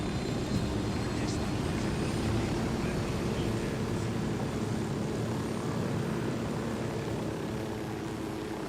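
A helicopter in the video game Ghost Recon Wildlands flies with a loud, continuous rotor and engine roar, dense and steady throughout with a low, beating drone.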